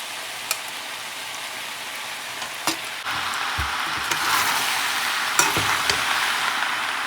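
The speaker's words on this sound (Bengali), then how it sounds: "তো বন্ধুরা এবার সবজিটা মিশিয়ে নিচ্ছি" Pasta and vegetables sizzle steadily in a hot pan while a spoon stirs them, with a few sharp scrapes and clinks against the pan and no voices.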